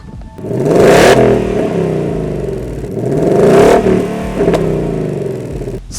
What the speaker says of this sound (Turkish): O 5000 cc'nin homurdanmasını iliklerinize kadar hissediyorsunuz.